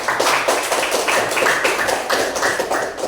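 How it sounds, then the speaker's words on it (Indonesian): A classroom of students clapping for a classmate, steady rhythmic group claps close by, loud and continuous with no talk over them. "Kita kasihkan lagi tepuk tangan untuk teman."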